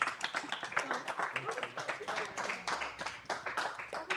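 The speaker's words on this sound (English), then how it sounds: "Round of applause for her" A small audience at a wine bar and art gallery claps for a magic trick performer in a brief, uneven patter of hand claps, with voices talking and exclaiming over it.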